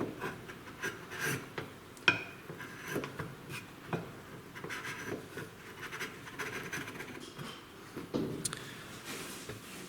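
A hand chisel pares across a piece of timber in quiet, irregular strokes, giving soft scraping and rasping sounds with occasional small knocks, close by and without speech.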